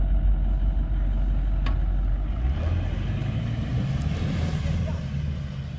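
An off-road vehicle's engine roars steadily at full throttle while climbing a steep slope, loud and close throughout, with voices faintly under it.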